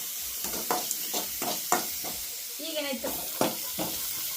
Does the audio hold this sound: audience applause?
no